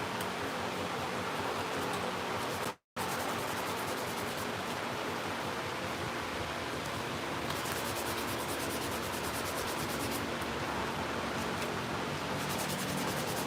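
Fine 800 grit sandpaper rubs along the edge of a leather wallet in a steady, close, continuous scratchy hiss, with one brief dropout.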